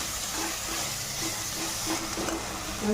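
Goat trotter masala sautéing in oil in a pan, a steady close sizzle and hiss with faint stirring scrapes underneath.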